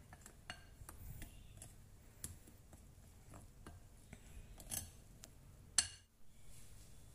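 A metal spoon stirs sifted flour in a bowl while making Paparoti coffee-topped buns, giving faint, scattered scrapes and light clinks that repeat irregularly with one sharper knock near the end.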